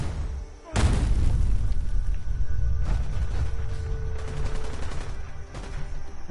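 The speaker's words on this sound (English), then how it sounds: "Where is the fucking gunfire coming from?" Gunfire in the video game Fallout 4, a loud burst of rapid shots that starts abruptly and rattles on steadily as a sustained fusillade with booming echoes, with no one talking.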